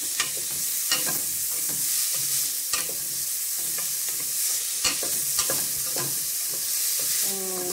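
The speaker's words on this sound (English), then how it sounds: "I'm just going to stir this around." A spoon stirs vegetables sautéing in a soup pot for shell and potato soup, giving a steady close sizzle broken by soft scraping strokes that repeat every second or so.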